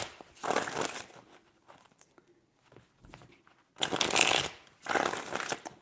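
Tarot cards are shuffled by hand in several close, crisp riffling bursts separated by short pauses, the last two the loudest, with no talking.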